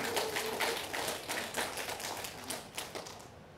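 Audience clapping at a Buddhist community gathering at a temple, a steady patter of many hands that thins and tapers off over a few seconds.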